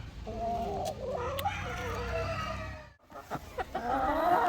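Hens clucking and murmuring nearby, steady low chatter with a brief pause, then sharper clucks resuming.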